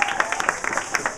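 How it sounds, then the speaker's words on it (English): Audience applause for student poets at a winter student meeting at La Casa, a short burst of many hands clapping in a dense, fairly steady patter with some voices mixed in. "One more round of applause for all the poets"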